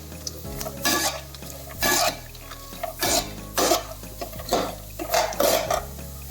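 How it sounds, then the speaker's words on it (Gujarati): Almonds and cashews dry-roasting in a pan over a low flame for a jaggery dry fruit pak, repeated scraping stirs in a steady rhythm, with nuts rattling against the metal under a faint sizzle and a low background hum. "બદામ અને કાજુને બંનેને આમાં મેં મિક્સ કરીને શેકું છું."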